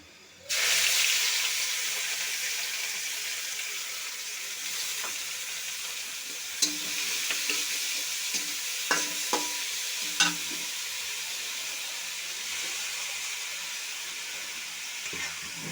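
Mixed greens hit hot oil with fried garlic in a wok, an abrupt loud sizzle that settles into a steady hiss, broken by a few sharp stirring clanks.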